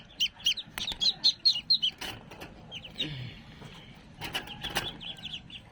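Newly hatched black ducklings give a quick run of high, thin peeps close by, then fainter scattered chirps and rustling follow.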